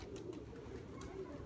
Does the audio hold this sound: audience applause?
no